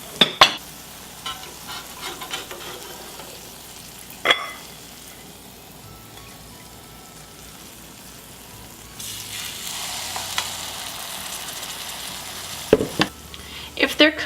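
GAPS pancakes frying and browning in a pan, with a soft continuous sizzle and several sharp clatters of a utensil against the pan; the sizzle grows louder partway through.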